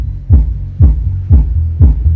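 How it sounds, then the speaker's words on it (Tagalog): Deep subwoofer bass booms from a small home sound system, four evenly spaced low thumps about half a second apart, loud and droning, with no voices. "Yan lang yung tunog ng subwoofer."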